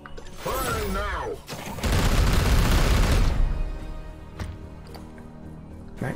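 Gunfire in the turn-based game Warhammer 40,000: Chaos Gate - Daemonhunters, a loud rattling burst of heavy weapon shots followed by a long roaring blast, then a few fainter mechanical clicks as it fades.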